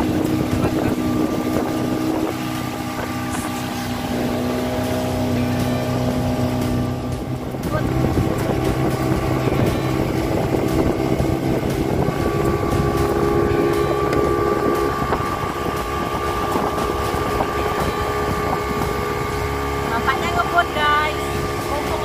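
Motorboat travelling at sea off Pulau Weh, Sabang, on a dolphin-watching trip, a steady engine drone with wind buffeting the microphone throughout and voices talking over it.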